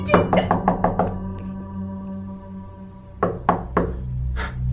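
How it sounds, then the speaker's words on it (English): Someone knocks on a door in two bursts: a quick run of about six raps, a pause with a lingering tone, then three or four more knocks, loud and close. "Yo, the door knocked again."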